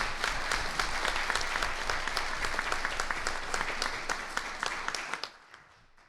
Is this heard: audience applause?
yes